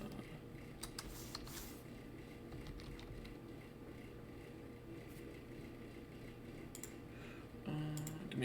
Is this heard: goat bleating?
no